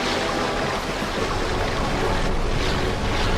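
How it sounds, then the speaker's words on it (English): Rushing water down a water slide in the Ratchet and Clank video game, a steady loud wash of splashing and surf-like noise that holds constant from start to end. "Waterslide!"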